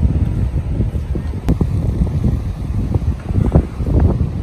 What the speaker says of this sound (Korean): 지금 바람도 불고 살살하고 너무 좋아요.